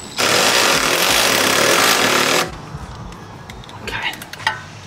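A power tool tightens a strut bolt on an Audi B9 S4 during a lowering spring install, one loud, steady buzzing burst of about two seconds, up close, followed by quieter clinks and handling noises.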